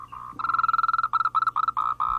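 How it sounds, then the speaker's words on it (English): Male Moltrecht's green tree frogs croak loudly and close by in a Taiwanese wildlife reserve, giving rapid pulsing calls in repeated bursts with no other sounds. "The low and loud croaking of male frogs emanates"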